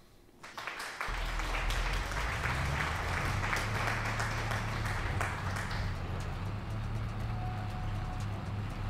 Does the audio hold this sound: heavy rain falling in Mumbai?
no